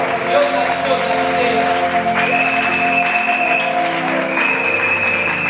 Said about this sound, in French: Est-ce que l'église peut acclamer pour le parent?